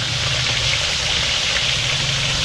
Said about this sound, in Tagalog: Ayan o. Sarap prito.